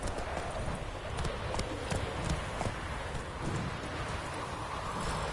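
A horse gallops steadily in The Witcher 3, its hooves drumming in a continuous fast rhythm over a constant wash of rain-like ambience, with no voices.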